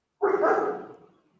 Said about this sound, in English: I think his dog is more insulted by that question, what it sounds like in the background